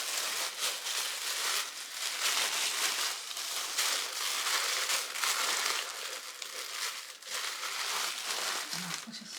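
Packing material crinkles and rustles almost without pause for several seconds as an order is wrapped up, a dense papery crackle close by.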